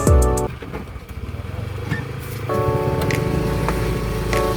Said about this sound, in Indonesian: Di dermaga Lakang, kami dijemput dengan 5 motor.